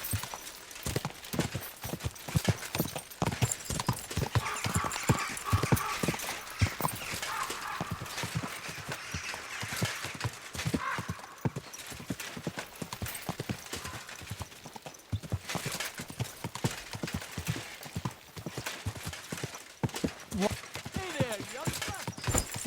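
Rhythmic clip-clop of horse hooves in the video game Kingdom Come Deliverance 2 throughout, steady and fairly close, with an occasional whinny and some speech.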